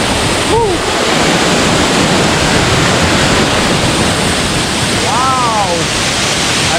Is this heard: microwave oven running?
no